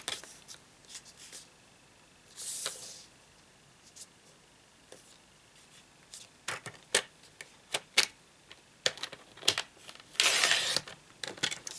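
Folded card is cut in half for a concertina pop-up card, with quiet close trimmer slides and crisp paper rasps and clicks arriving in short bursts amid soft handling rustles.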